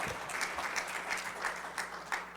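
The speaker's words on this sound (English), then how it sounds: "Let's give them a round of applause." Scattered applause from a small crowd at a Martin Luther King Jr. memorial program, steady clapping at moderate distance with no voices over it.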